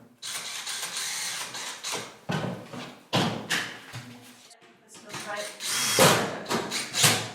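Screws driven into a wooden board with a power driver, several short whirring bursts separated by pauses, close and fairly quiet.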